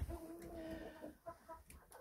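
A rooster kept with Marans hens gives a few short, low clucks up close, with faint rustling around it.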